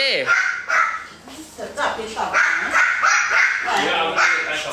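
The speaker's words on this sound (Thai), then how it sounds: "อย่าเห่าสิว" A dog barks repeatedly in a home setting near a backyard, loud yips and barks mixed with close Thai speech from people talking over it.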